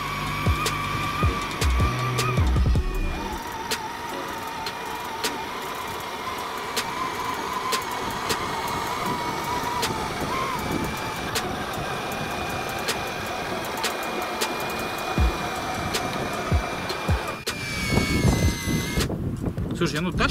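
A small electric motor of a radio-controlled Toyota Land Cruiser 80 model car's winch whines steadily with rising and falling throttle, mechanical whirring and gear strain running for most of the clip, with brief clatter near the start and end.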